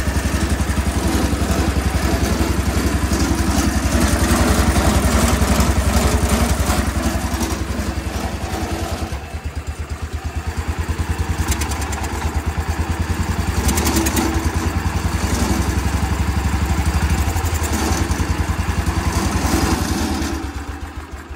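A Wheel Horse garden tractor's small engine runs steadily and loudly close by, a throbbing low idle with mechanical clatter that holds throughout with slight dips in pitch, no voices over it.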